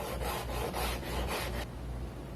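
Rhythmic back-and-forth rasping of sandpaper radiusing a wooden Gretsch Super Axe guitar fingerboard, about five quick strokes, close and clear, then it stops and leaves quiet room tone.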